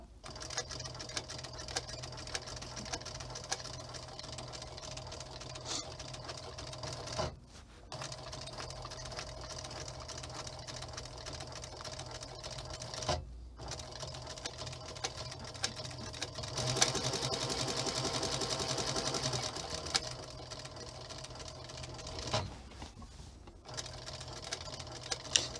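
A treadle sewing machine stitches in long runs of rapid, even mechanical clatter, pausing briefly a couple of times before resuming, close and steady without speech.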